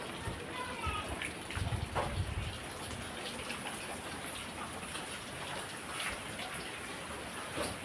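Steady rush of rainwater flowing down steps with pattering drops, continuous and fairly loud, with brief voices speaking underneath.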